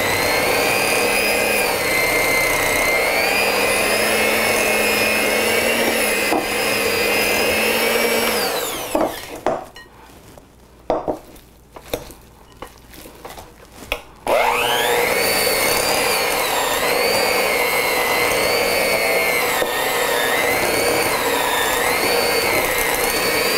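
A blender whirs loudly and steadily as it blends a cold cream cheese mixture, pausing briefly in the middle with a few uneven bursts before starting up again at full strength.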